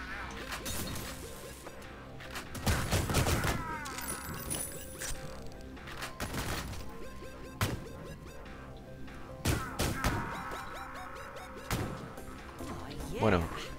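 Gunfire and mechanical weapon sounds in the first-person shooter Ion Fury played on Linux, scattered sharp shots and clanks with crashes, heard under someone talking.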